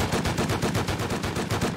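Rapid automatic AK rifle fire in a video game, a steady burst of roughly a dozen loud, evenly spaced shots with no talk.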